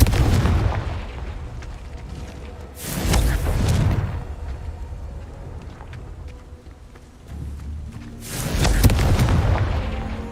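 Blasting spells detonate in a Hogwarts Legacy game fight, each a loud booming burst with a rumbling tail, two big blasts separated by lower continuous battle rumble, with no talking.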